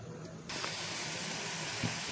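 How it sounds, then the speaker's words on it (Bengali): A pot of prawn bhapa boils on a gas stove, giving off a steady, close hiss of steam that starts abruptly and keeps going without a break. "এই দেখো এটা ফুটছে তো, এবার আমি গ্যাসটা কমিয়ে দেবো।"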